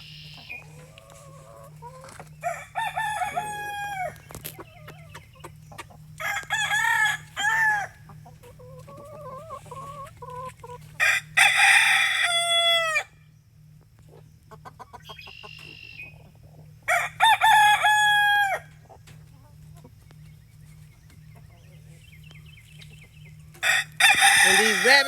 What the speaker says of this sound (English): We have 17 hens and 4 roosters.